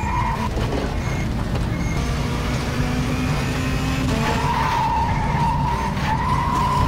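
A car spinning out on a corner in a racing video game, a steady loud engine drone with a long tire screech rising over it, continuous for several seconds with no talking.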